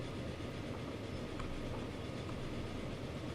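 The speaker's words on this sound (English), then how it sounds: "Large freight train reverse Mikado in the distance there" Large freight train hauled by a reverse Mikado locomotive in the Transport Fever game, a steady, dense rumble of engine and rolling wagons heard at a distance, unbroken throughout.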